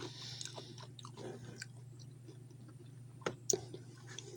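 Crunchy chicharrones chewed with no-cook ramen, giving close, quiet mouth sounds with a few sharper crunches and bites over a low steady hum.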